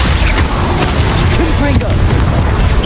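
Glacius freezing spell cast in Hogwarts Legacy, a booming magical burst amid continuous dense game combat noise with low rumbling impacts and short whooshing tones, loud throughout under faint background voice.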